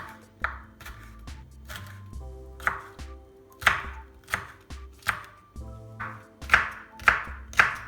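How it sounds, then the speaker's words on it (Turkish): Steady, rhythmic knife chopping of peppers finely on a board, crisp repeated strikes close by, over soft background music and no speech. "Biberleri ince ince doğramamız önemli."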